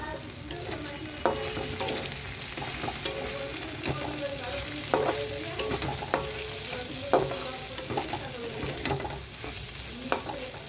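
Okra sizzles in a hot pan while a utensil scrapes and stirs at a steady, repeated rhythm, close and clear.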